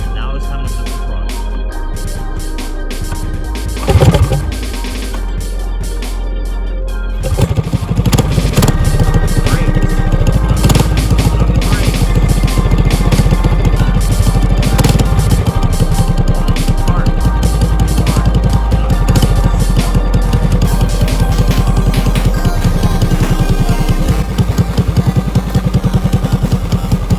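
A go-kart engine at a karting track idles quietly, then roars up to a steady, loud drone as the throttle opens and holds for about twenty seconds, with voices faintly underneath.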